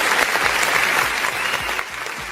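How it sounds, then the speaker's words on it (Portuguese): Studio audience applause for a birthday on a talk show, a dense steady burst of clapping that carries on throughout the short clip. "quero o Bruno aqui, dar uma salva de palmas, porque hoje é aniversário do João Gabriel"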